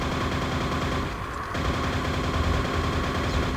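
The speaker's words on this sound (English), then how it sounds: "We'll just use the nail gun." Rapid nail gun fire from the shooter game Quake, a dense continuous stream of mechanical shots with a brief dip in the middle, loud and up close, no talk.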